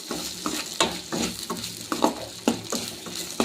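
Moong dal is dry-roasted in a pan on a low flame, stirred in a quick, regular rhythm of scraping strokes that sit over a soft, continuous rustle.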